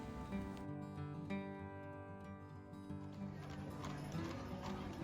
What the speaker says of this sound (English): They even have horse-drawn carriage rides